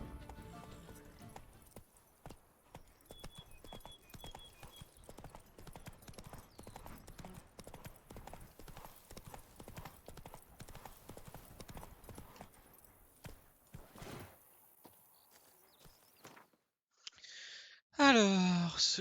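Horse hooves clip-clop steadily in The Witcher 3 at moderate volume, with occasional snorts, under a continuous game backdrop, ending in a louder burst near the close.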